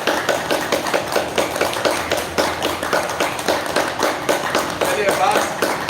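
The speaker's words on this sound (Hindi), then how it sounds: "उंगलियों को खोल लें और तेजी से ताली बजाएं" A quick, steady run of sharp hand claps, palms striking with fingers spread, sounds close and loud in a yoga session, over a low background hum.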